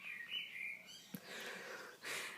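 A bird sings and chirps nearby in short, bright phrases, with soft background noise and no talking.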